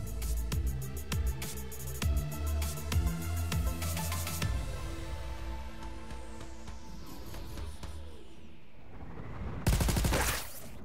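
Rapid bursts of video game gunfire from Crackdown 3, dense repeated shots for several seconds, then a lull with ringing debris before another loud burst near the end.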